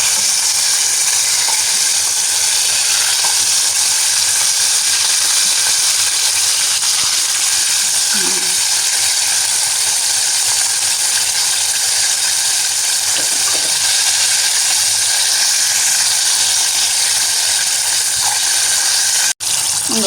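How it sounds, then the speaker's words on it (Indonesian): Steady crackling sizzle of breaded fried chicken frying in plenty of hot oil, continuous and close, with a few faint clinks and no talking. "Menggoreng kentaki itu memang minyaknya harus sedikit banyak ya, Mam."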